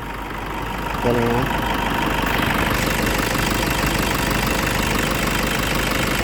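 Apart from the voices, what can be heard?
Toyota Innova engine idling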